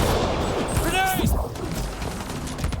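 Grenade blasts and rapid gunfire from a combat firefight in the sci-fi video game Mass Effect: Andromeda, dense and loud throughout, with a shouted voice cutting across the noise near the middle.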